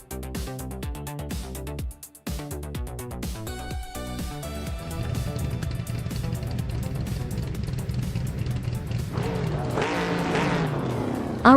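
Race cars roaring around Autodrome Most in a racing video game, among them a 1971 Mercury Cycle. Engines drone and rise in pitch steadily and loudly, with a brief dropout early on and a swelling pass near the end.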